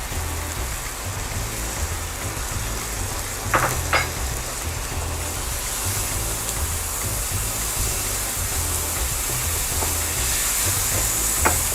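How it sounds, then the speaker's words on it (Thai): Minced pork stir-fried in a pan without oil makes a dense, rain-like sizzle that stays loud and close throughout, with a couple of brief spatula scrapes and no speech. "ใช้เป็นวิธีการรวนก็ได้นะคะ วิธีนี้ก็จะช่วยให้เราไม่ต้องใช้น้ำมันนะคะ"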